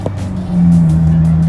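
A BMW E46 car drives along with a steady, loud engine drone that drops and then settles into a new, steadier pitch as a gear is changed, heard from inside the cabin without talk.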